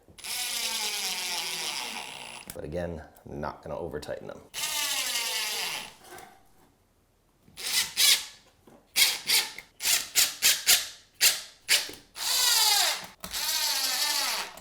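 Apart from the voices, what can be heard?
power drill driving screws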